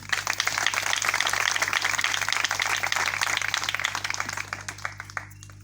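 Wedding guests clap together during a Christian ring ceremony, a dense steady patter of many hands that runs for several seconds and tapers off near the end, with a low hum underneath.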